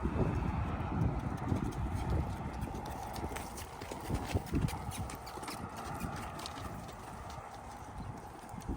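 A saddle donkey walks at a steady pace, its hooves making a soft, even clip-clop on the ground under rustling, breezy background noise, with a little faint talk.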